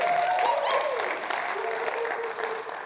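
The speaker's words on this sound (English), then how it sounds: "We're gonna hear big round of applause for the band." Audience applause for the band on a late-night talk show, a steady wash of clapping from a studio crowd at moderate level with a faint tone ringing over it.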